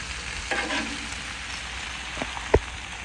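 Vegetables browning on a grill sizzle quietly and steadily, with a couple of soft stirring scrapes and a sharp tap near the end, close up and with no voices.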